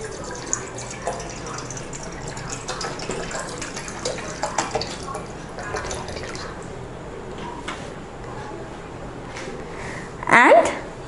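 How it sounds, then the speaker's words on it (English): Water trickles and splashes steadily into a container, with a louder gurgling pour near the end; a voice speaks quietly over it. "I am going to pour water."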